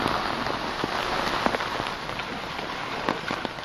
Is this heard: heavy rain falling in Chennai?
yes